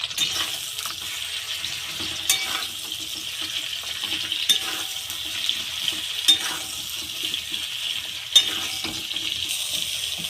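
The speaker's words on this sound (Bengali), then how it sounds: "এইবার ঢেঁড়সগুলো ভালো করে ভেজে নেব।" Okra fries in hot oil in a wok, making a steady, close hiss of sizzling with soft stirring clicks and scrapes recurring every couple of seconds.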